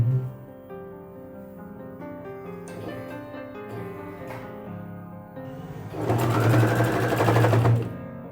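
A sewing machine stitches an old T-shirt, its motor giving a steady tonal hum that swells into a loud, fast whirring run of about two seconds near the end.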